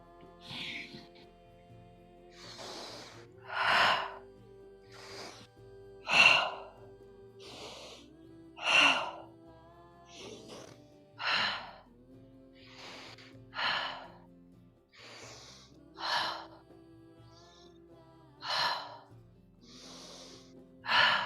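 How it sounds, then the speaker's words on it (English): Forceful rhythmic breathing during a Kundalini yoga class, strong breaths repeating about every one to two seconds over a low steady background hum, close and clear. "Keep that strong breathing."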